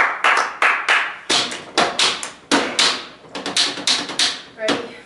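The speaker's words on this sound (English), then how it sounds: "Clap." A run of sharp hand claps in a small indoor room, about ten of them at uneven intervals, each a crisp close slap with a short decay, marking the start of takes while the crew sets up.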